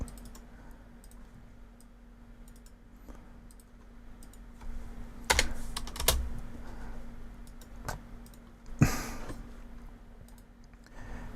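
Keyboard and mouse clicks come from a computer while a title is copied and pasted. Quiet scattered taps build to a few louder clustered clacks near the end, with no talking.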